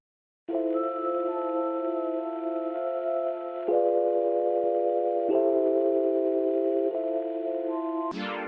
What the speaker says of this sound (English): It's the Sweetness Rose patch in Omnisphere